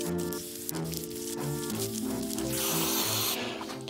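Degreaser sprays in a steady hiss onto greasy caravan wheel bearings, the spray running in short bursts over a busier background with faint tones, close to the microphone, with no talk.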